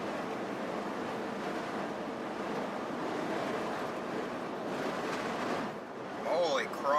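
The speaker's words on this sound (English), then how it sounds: "These freaking crosswinds are brutal right now." Strong crosswind buffets a moving car on an open highway, a steady broad roar of wind and road noise that swells slightly near the end.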